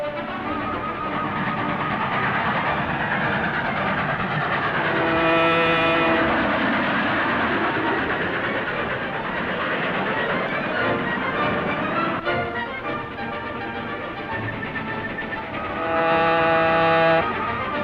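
Train rolling along rails in a 1940 crime serial chase, a loud continuous rumble and clatter with a horn-like tone swelling briefly at about six seconds and again near the end.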